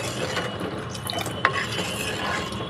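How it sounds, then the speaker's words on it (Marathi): Rice kheer is stirred in a clay pot, giving soft, steady wet scraping and gentle swishing close by, with one small clink midway and no talk. "दर 2-2 मिनिटांनी ढवळून घ्या."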